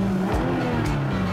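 A BMW 4 Series six-cylinder engine revs up in quick blips, a close, loud rising-and-falling tone with sharp pulses, with no voices heard.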